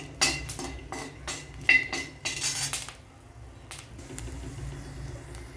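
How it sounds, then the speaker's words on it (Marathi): Peanuts roasting in a pan, with several sharp clinks and scraping of a utensil against the metal in the first three seconds, then quieter shuffling sounds. "आता शेंगदाणे भाजून घेऊया"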